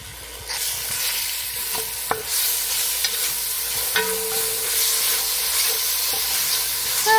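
Creamy lentil stew with coconut milk bubbles and sizzles in a pot, a steady close hiss broken by a few soft stirring knocks and clinks, with no voices.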